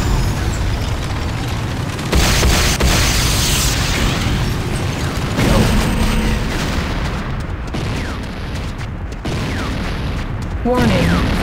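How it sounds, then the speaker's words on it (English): A GDI power plant blows up in a strategy video game with loud, continuous rumbling explosions and crackling debris, layered with mechanical battle noise and bursts, dense and unbroken throughout. "GDI Power Plant destroyed."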